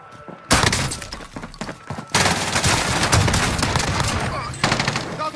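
Rapid automatic gunfire in a video game, loud and close, with sustained bursts mixed with shattering glass and a voice talking underneath.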